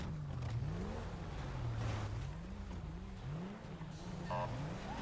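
A car pulls away at night amid a tense street scene, its engine a steady low drone with wavering pitch as it revs and accelerates, continuous and fairly close, with scattered voices underneath.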